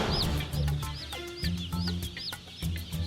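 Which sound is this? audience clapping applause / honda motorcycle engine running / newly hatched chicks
newly hatched chicks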